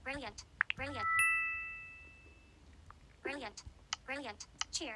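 Apple Watch watchOS 11 'Brilliant' ringtone: a bright ding with sustained shimmering tones that ring out and slowly fade over about two seconds, set between stretches of someone talking.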